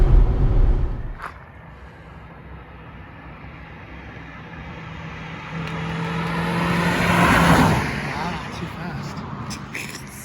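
A Ford Focus ST170 driven hard along a B-road: engine and road roar that dips, then builds to a loud peak and fades, with occupants talking over it.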